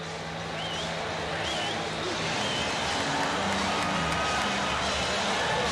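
A large arena football crowd at a 1992 Tampa Bay Storm vs Orlando Predators semifinal murmurs and roars during an overtime coin flip, forming a dense, continuous, distant wash of noise that rises slightly toward the end.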